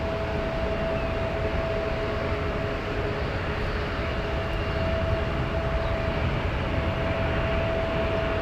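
An Emirates airliner taxis briskly through a turn at San Francisco airport, its engines giving a steady, loud, broad roar with a faint constant whine running throughout and no voices.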